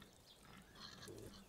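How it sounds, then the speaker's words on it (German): Pigs grunting in the farming video game Landwirtschafts-Simulator 17, faint low snorts and grunts over a soft continuous game background, with no talking. "12 Schweine sind schon da."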